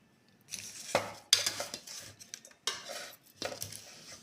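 A ladle scrapes and clinks through a big pan of vegetable fried rice, tossing it in several bursts of stirring with brief pauses between them, close and fairly clear.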